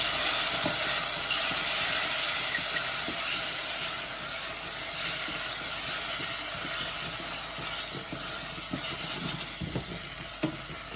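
Chopped tomatoes and a little tomato puree are stirred into a sizzling homemade chicken curry. A loud, steady frying hiss runs throughout, with intermittent scraping and clicking from the stirring, and no voices.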